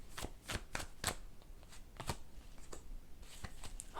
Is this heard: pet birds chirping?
no